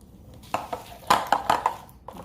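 Cream cheese for an antojitos appetizer being mixed in a bowl, heard as a handful of sharp utensil clinks and scrapes against the bowl in an irregular burst, close and fairly loud.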